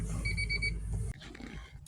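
Repeated electronic beeping from inside a 1993 Honda Accord with its dash partly taken apart, a quick run of short tones over a low rumble, then stopping abruptly.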